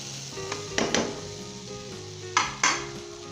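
Tomatoes are stirred into frying mutton curry in a pot, with a low steady sizzle and a few sharp scraping stirs of a spoon.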